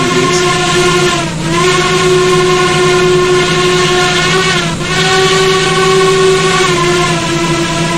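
A train passes in a city-building video game, heard as a loud, sustained tonal drone with steady harmonics that dip briefly twice. No one speaks.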